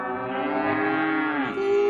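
A cartoon cow gives one long, loud, drawn-out moo that bends downward in pitch near the end, heard alone without talk.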